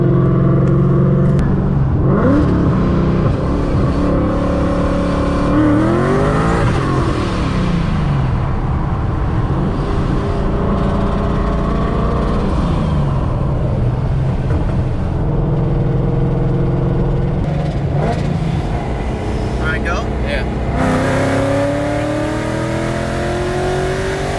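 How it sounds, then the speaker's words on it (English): A Ford Mustang on a street test drive, with the engine revving loud and close throughout and repeated rises in pitch through the gears and several sharp throttle blips, plus a final climbing rev near the end; no speech. "Let's head out on the street and test drive it."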